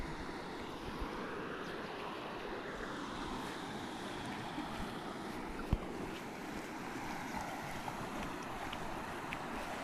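Fast-flowing river water rushes in a dense, continuous roar close by, steady for the whole stretch with a brief knock partway through and no talking.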